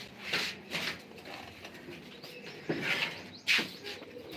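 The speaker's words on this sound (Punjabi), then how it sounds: "ਵੱਡੇ ਕਬੂਤਰ ਸਾਰੇ ਪਰ ਵੱਡੇ ਕਬੂਤਰ" Large pigeons calling near the microphone, several short soft chirps and coos spaced a second or so apart over a quiet background.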